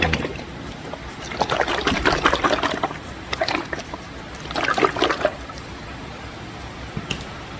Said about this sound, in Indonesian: Ini olinya kita kocok dulu guys ya.